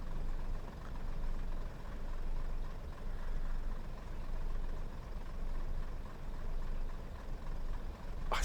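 A train engine idles in Train Sim World 5 on the West Coast Main Line from Preston to Carlisle, its revs dropping. A low, steady rumble gently rises and falls throughout, with no talking.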